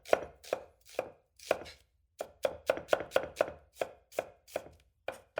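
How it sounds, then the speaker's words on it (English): A knife cuts an onion into thin slices on a board for a roast beef po'boy, giving a steady run of about fifteen crisp, close chops with a brief pause partway through, with no talking. "all I really want to do is just get some nice thin slices of onion"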